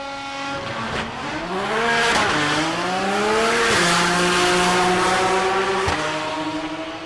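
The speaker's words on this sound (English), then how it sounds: "Twin turbo V6 for power." A twin-turbo V6 drag car on a drag strip run, loud and close, its engine climbing in pitch through several gear changes with a steady high-revving roar from start to finish.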